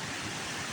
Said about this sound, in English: That water is actually flowing off of the dam.